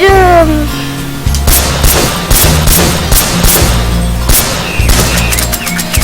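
Shotgun blasts ring out in the Zombie TS video game: loud, close, booming shots fired in rapid repeated bursts with brief gaps between volleys.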